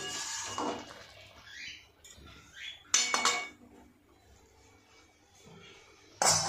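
Metal pot clanking and scraping while cooked chana dal is tipped out, a few sharp knocks and clatters spaced apart, with a final loud clank at the end amid quiet kitchen background.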